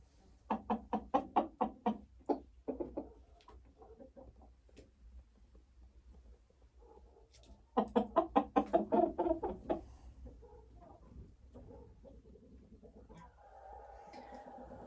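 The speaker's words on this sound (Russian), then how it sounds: "Все говорят мне, что вот это черный петушок." A black rooster in a henhouse gives two bursts of rapid, rhythmic clucking, with quieter scattered clucks and knocks between and a soft murmur at the end.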